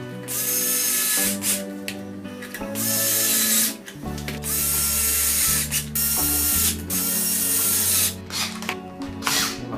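Cordless screwdriver driving screws to close a Sparky BR 12E cordless tool battery pack after its cells are replaced, heard as repeated close whirring runs with brief pauses and ratcheting clicks.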